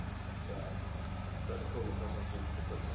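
A 2010 Mini Cooper engine idling roughly, a low steady rumble with an uneven pulse, close by, while people talk over it.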